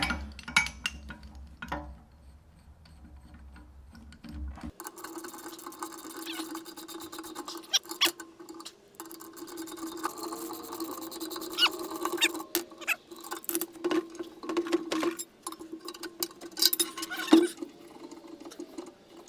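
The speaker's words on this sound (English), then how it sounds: "You gotta know how to use a crowbar." Crowbar prying a part off an old Oliver bandsaw, with scraping, rubbing metal and clinks in uneven bursts, close and fairly quiet, ending in a sharper clank as it gives way.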